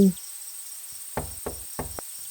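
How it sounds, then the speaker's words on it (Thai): Someone raps gently on a house door, three soft knocks in quick succession over a quiet background of insect or cricket chirring. "ด้วยความเป็นห่วงฉันจึงลองเดินไปเคาะประตูบ้านเธอเบา"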